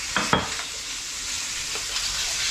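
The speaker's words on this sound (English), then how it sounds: "Okay, so we're going to give that a little mix." Homemade burger sauce being stirred with white wine vinegar for a Vegas burger: a few soft spoon clinks and scrapes near the start over a steady background hiss, with no talking.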